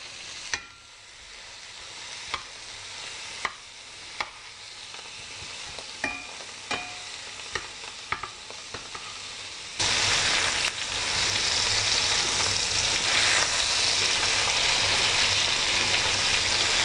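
A generous amount of butter sizzling in a hot pan around a sous-vide filet mignon steak, a close continuous crackle with sharp spatters and taps, growing louder and denser partway through.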